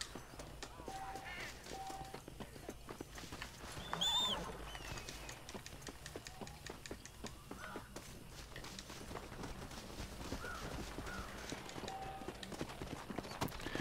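Horse hooves clip-clop steadily in the video game Red Dead, a quiet, even rhythm of repeated hoofbeats with faint birdsong and ambient outdoor game sounds around them, no talking.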